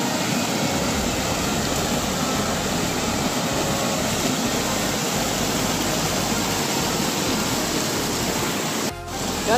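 Water rushes in a steady, loud, broadband wash during a dive at Wadi Hanifah, continuous and close for the whole stretch, with a brief dip and a sharp disturbance near the end.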